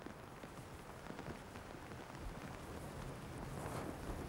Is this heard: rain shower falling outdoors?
yes